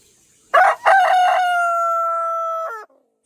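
A rooster crows once, loud and close, in a full drawn-out call: a sharp rising start, then a long sustained note, ending with a brief drop. It stands alone against near silence.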